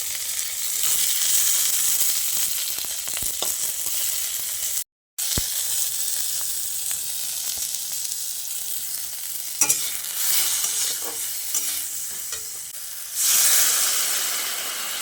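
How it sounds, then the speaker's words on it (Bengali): Potatoes fry in oil in a pan with a loud, close, continuous sizzle and hiss, broken by a brief silent gap and a few scraping stirs and clinks, with no talking. "তাই ভাবলাম অনেকগুলো একটু ভেজে নিই"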